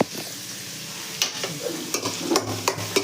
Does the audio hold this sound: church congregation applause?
no